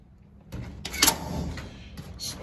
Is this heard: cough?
no